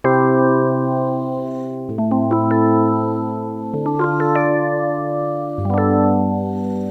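A chord progression played on a software piano in FL Studio, four sustained chords with notes entering slightly staggered as the start time knob is exaggerated, each chord ringing clearly and close with no speech.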